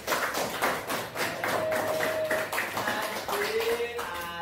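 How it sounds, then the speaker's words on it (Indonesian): Children in a classroom clap together, a run of quick, distinct hand claps in an irregular rhythm, fairly close, with faint tones and a voice in the background. "Tepuk tangan untuk kita semua."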